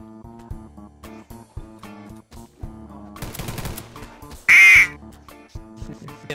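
A duck quacking sound played from a soundboard in Garry's Mod DarkRP cuts in as a short, loud burst amid rapid game gunfire and music.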